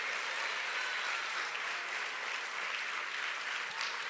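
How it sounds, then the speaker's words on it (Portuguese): Congregation at a church service applauding steadily, a dense, even wash of clapping that holds at the same level throughout without voices over it. "Eu quero crer que você está aplaudindo porque você governa sobre ela."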